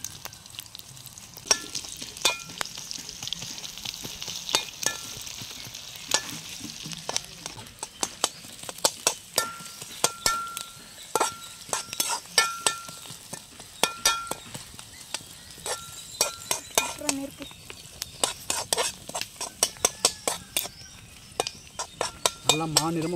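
Garlic sizzles and fries in a pan for a country-style mud crab gravy, with a steady hiss broken by repeated sharp scraping and clinking of a spoon stirring against the pan, loud and close throughout.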